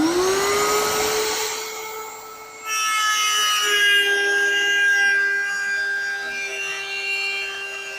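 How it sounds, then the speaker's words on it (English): Router table with a 14-degree dovetail bit cutting a sliding dovetail in wood, a high spinning whine that drops as the bit engages, followed by grinding cutting noise, close and loud with no talk. "This is a simple setup for routing a sliding dovetail, and it uses the 14-degree dovetail bit mounted in the router table"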